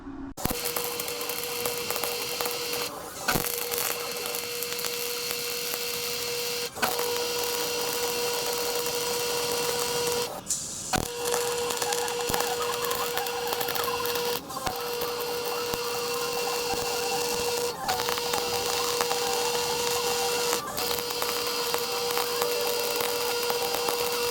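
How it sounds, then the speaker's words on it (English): A welder works on a mount for an RV generator, giving off a loud, continuous electric buzz and crackle that cuts out briefly every few seconds between passes and then starts again. "So alright, let's get to welding, make some sparks."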